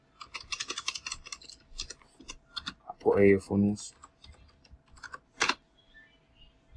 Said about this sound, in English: Then I start typing.